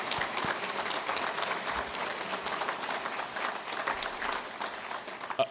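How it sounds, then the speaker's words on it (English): Steady applause from a large crowd at the grand opening of a presidential library, dense and sustained throughout, moderately loud with no speech over it. "Please give her a round of applause."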